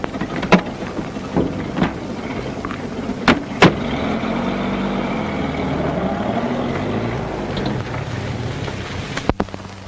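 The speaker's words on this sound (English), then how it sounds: "Move the car off the road." Car from 1936 driven off a road in a ghost-town setting, a steady engine rumble with wind noise, punctuated by a few sharp knocks and clicks, running throughout without speech.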